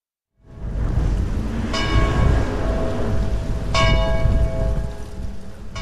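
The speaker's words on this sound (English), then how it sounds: "Church bells ring out in a village in northern Portugal." Church bells ring out in a village in northern Portugal as a wildfire warning; two strong, ringing peals stand out around a steady, rushing background wash, with no talking.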